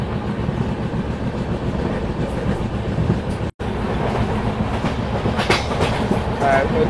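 A train runs on rails toward Rangamati, a steady close rumble with rhythmic wheel clatter, broken by a brief dropout midway, with a faint voice at times.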